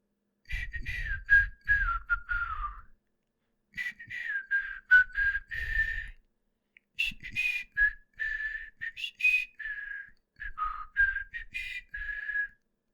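A person whistles a lilting tune in several phrases separated by short pauses, clear and close, with no talking.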